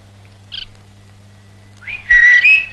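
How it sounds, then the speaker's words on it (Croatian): A person whistles a short high melodic phrase, loud and close, following a brief chirp-like note against a steady low hum. "Prestani da zviždi."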